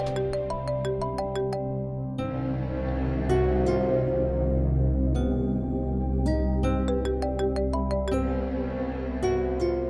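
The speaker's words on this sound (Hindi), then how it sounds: "नादिया, तुम्हारा फोन बज रहा है।" A mobile phone ringtone plays a repeating melodic tune with chiming bell-like notes in an indoor home setting, loud and close, cycling through several phrases without any voices.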